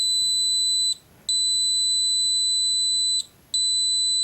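A Fnirsi ST2 tweezer LCR meter gives a continuity beep, a loud, steady high-pitched tone held for long stretches and broken by two brief gaps, with no talking.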